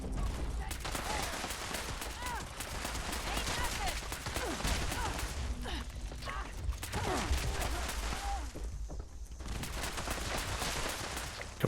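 Rapid, sustained gunfire in a Fallout 76 battle against Mirelurks, dense crackling bursts and volleys running continuously with game effects layered underneath.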